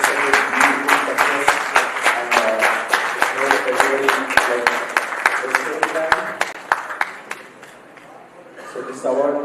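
Sustained applause from an audience at an award presentation honouring a recipient, dense steady clapping with sharp individual claps standing out, fairly loud and continuing for several seconds before thinning near the end.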